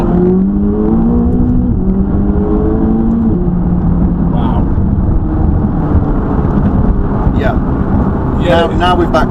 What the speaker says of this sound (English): Let's see what the 570 GT is capable of as a supercar.